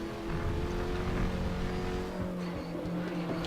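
A GTR3 race car engine accelerating in RaceRoom at Paul Ricard, a steady tonal drone that climbs and holds through the gears at moderate level, with faint tyre noise and no talk.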